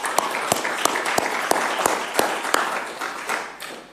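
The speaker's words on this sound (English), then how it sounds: "Give yourself a round of applause." Applause from a council chamber after a unanimous vote at a special meeting, sparse but steady clapping from a modest group of councillors, fairly close, with distinct individual claps standing out and fading toward the end.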